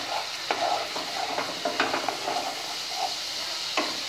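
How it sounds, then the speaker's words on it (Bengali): Spice paste for a yogurt fish curry stir-fried in a pan: a steady sizzle with scraping stirs and occasional clinks, close and even, no talking. "ভালো করে মশলাটাকে কষাতে হবে।"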